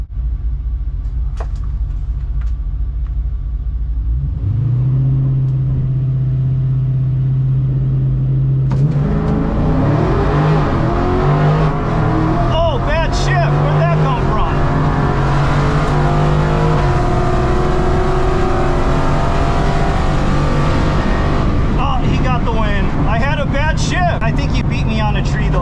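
A Modern Street HEMI drag car launches at Rockingham Dragway: a low idle rumble builds into a loud, rising engine roar that holds for many seconds before easing, with people talking over it.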